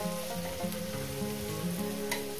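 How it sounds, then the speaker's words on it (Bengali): Onions sizzle and fry in a pan for a fish-head and potato dish, a steady crackling hiss with a few soft stirring scrapes layered over it, close up and with no voices. "পেঁয়াজটাকে আমি 2-3 মিনিট ধরে ভেজে নেব।"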